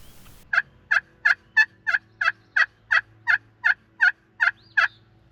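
Wild spring turkeys in Massachusetts gobble in a quick run of about a dozen evenly spaced calls, clear and fairly close over a quiet outdoor background.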